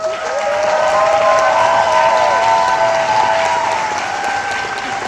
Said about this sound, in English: I was gonna say let's give ourselves a round of applause, but we already did that.